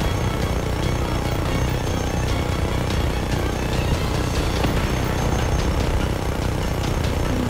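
A helicopter in the video game Just Cause 3 roars continuously, a loud, steady engine and rotor drone that fills the whole stretch without letup and with no talk over it.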